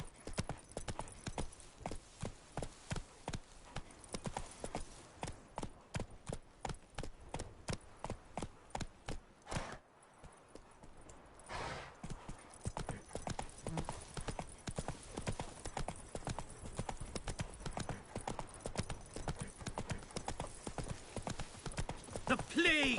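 Horse hooves clip-clopping at a brisk, even pace while riding in The Witcher 3 game, a steady near rhythm that pauses briefly before resuming.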